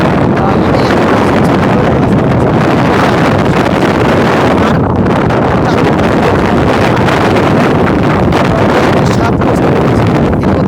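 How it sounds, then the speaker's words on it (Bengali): Strong cyclone wind over a river roars continuously across the microphone, a loud, steady buffeting rush with gusts that never lets up, and no voices. "আর নদীতে এখন প্রচণ্ড বাতাস হচ্ছে"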